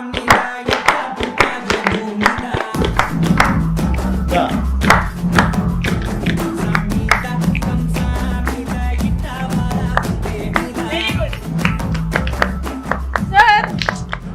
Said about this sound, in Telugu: క్లాప్ చేయండి bro, clap, everybody children clap